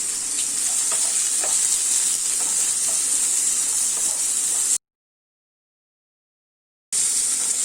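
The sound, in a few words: onion, garlic and chillies sautéing in pan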